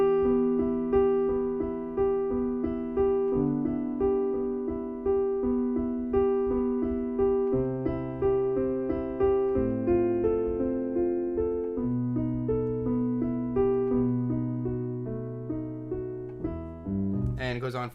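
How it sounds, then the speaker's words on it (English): A solo piano plays the Adagio opening of Beethoven's Moonlight Sonata, with slow, even triplet arpeggios over low sustained bass notes, clear and close, with no talking. "I'm going to be showing you the first part of Beethoven's Moonlight Sonata,"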